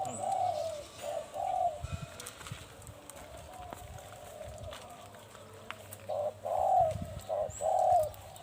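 Trained decoy doves coo in short repeated bursts, moderately close, with quiet chatter and rustling in the background.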